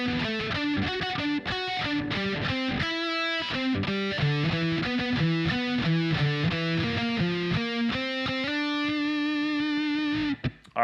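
Heavily distorted electric guitar plays the top harmony line from a song as a run of separate picked notes that moves in steps and ends on one long held note, which is then cut off.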